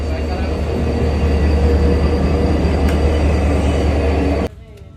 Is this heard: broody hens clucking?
no